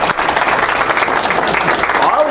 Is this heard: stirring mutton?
no